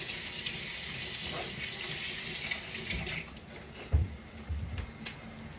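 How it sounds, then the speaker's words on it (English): Kitchen tap water running steadily while a fork is rinsed under it, a soft continuous hiss with a few small clinks and knocks from handling. "let's rinse off this fork."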